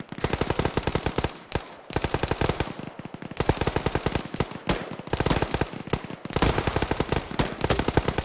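Sustained automatic gunfire in a military video game squad training session, loud rapid bursts of machine-gun shots with only brief pauses between them.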